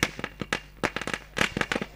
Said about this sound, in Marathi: सध्याच्या घडीला फटाक्यांची आतषबाजी आपल्याला पाहायला मिळते